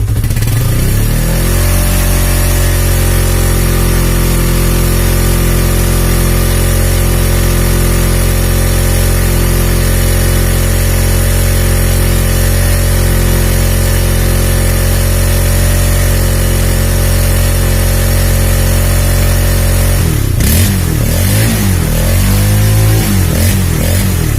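A Honda CB150R motorcycle engine with a charging fault idles steadily and loudly up close for about twenty seconds, then changes pitch near the end as it is revved or shut off.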